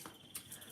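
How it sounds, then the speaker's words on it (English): Cricket chirping sound effect, a faint high trilling buzz with a couple of brighter pulses over a quiet background hiss, heard alone. "Where is my crickets"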